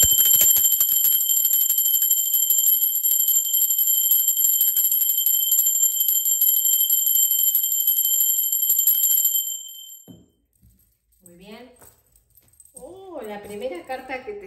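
A bell rings loud and sustained for about nine seconds with bright, steady overtones, then cuts off. A voice begins speaking afterward.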